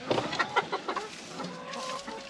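Several hens cluck in short, uneven bursts inside a chicken coop on a poultry farm during chore rounds, fairly close, followed by a steadier low hum of the building with no talking.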